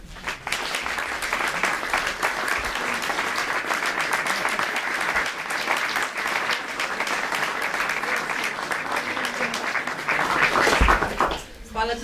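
Sustained audience applause fills a hall at a Slovenian film premiere, loud and continuous with dense clapping, swelling slightly near the end before dropping off.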